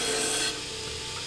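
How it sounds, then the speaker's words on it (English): A forged seax blade is ground to strip off scale, giving a close, continuous abrasive hiss that drops slightly in loudness halfway through and carries on steadily. "the grinding as I'm doing it here is a process, and there are multiple steps."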